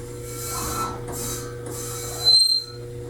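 Mechanical grinding and whirring as an adjustable welding work table, holding a 2001 KTM 250 two-stroke, is raised a couple of feet, with pulsing bursts and a short louder surge near the end, no voices.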